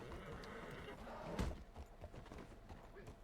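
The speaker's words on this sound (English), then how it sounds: "I'm trying to hitch my horse there too" Horse hooves clip-clop in the Western role-play game RedM, a quick run of moderately close steps with a sharper knock midway. A voice talks over them.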